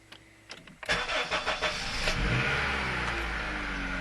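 A Honda CR-V MkII engine cranks in a few rapid starter pulses, then catches and settles into a steady, close idle, heard alone after a new cam sensor is fitted.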